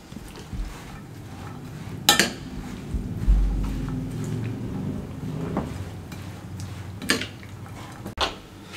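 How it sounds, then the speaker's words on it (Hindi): Chana chaat ingredients being mixed in a bowl at a Karachi street food stall, with sporadic metallic clinks and scrapes of a spoon against the dish over a low background hum. "अच्छे तरीके से सब चीज़ों को मिक्स कर लेते हैं"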